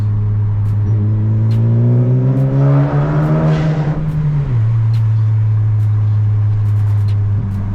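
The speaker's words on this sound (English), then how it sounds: "Give you guys a quick little sound clip of the exhaust." A Honda Civic Si (10th generation) exhaust drones steadily, then revs up loudly and echoes inside a tunnel before settling back to a rumbling idle.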